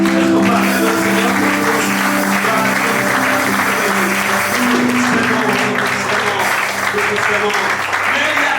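Church congregation applauding and cheering at a worship service, a steady dense wash of clapping over sustained music and voices throughout.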